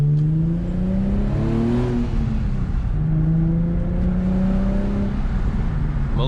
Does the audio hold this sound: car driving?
yes